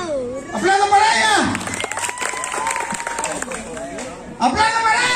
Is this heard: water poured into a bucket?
no